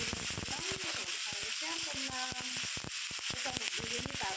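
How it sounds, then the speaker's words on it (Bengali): Onion, ginger, garlic and tomato frying in oil in a pan for a dal curry give a close, steady sizzle broken by frequent sharp crackles and pops. "এই যে পেঁয়াজ, আদা, রসুন, টমেটোগুলো কিন্তু একটু একটু ভাজা ভাজা হয়ে গেছে"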